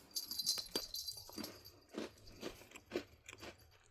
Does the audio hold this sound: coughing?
no